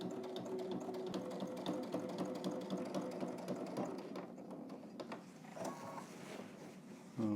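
A sewing machine topstitches along a fold in a sewing project, running at a steady mechanical whir with quick repeating needle clatter throughout, fairly close, briefly pausing near the end before starting again.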